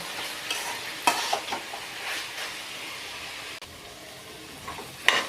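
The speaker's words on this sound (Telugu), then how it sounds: "ఇవన్నీ ఒక పది నిమిషాలు ఇలా దగ్గర వేగనివ్వాలండి" Vegetables and ground coconut paste fry in a pan for veg biryani, giving a soft continuous sizzle broken by occasional stirring scrapes and clinks from a spoon.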